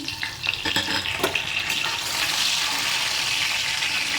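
Bay leaves, cardamom, cloves and cinnamon hit hot oil in a kadai with a loud, steady sizzle and a few sharp crackles and stirring scrapes at the start.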